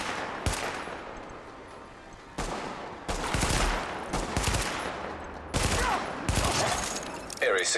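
Video game gunfire sounds in several loud bursts of rapid shots, separated by brief lulls, with heavy booming impacts toward the end.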